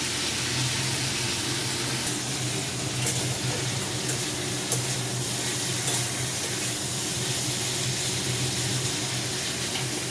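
Potatoes and yardlong beans fry in a pan over lowered gas heat, giving a steady, even sizzle that runs unbroken through the whole stretch, close by, with no talking.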